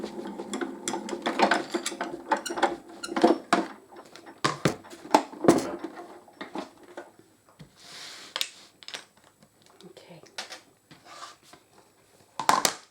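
A die-cutting machine feeds card through its rollers, giving a run of irregular ratcheting, clicking mechanical bursts at close range with brief pauses and a few louder clacks, and no voices.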